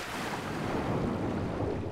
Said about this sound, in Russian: Вода.